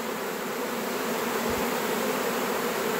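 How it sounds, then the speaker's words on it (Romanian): Honeybees fanning their wings at the hive entrance after a swarm, a loud, steady buzzing drone close by that fills the whole stretch without any talk. "acestea au glandele Nasanov deschise și bat din aripi ca să transmită mai departe feromonul și astfel vor veni înapoi albinele"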